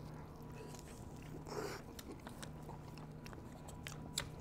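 Someone takes a bite of pizza and chews it close to the mic: a soft crunch followed by quiet, irregular chewing sounds over faint background noise.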